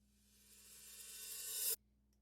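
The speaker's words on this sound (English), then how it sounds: "So I'll just take an open hi-hat and just reverse it." A reversed open hi-hat sample swells from near silence into a bright, hissing crescendo over almost two seconds, then cuts off abruptly into quiet. It sounds soft overall and isolated, with no voice.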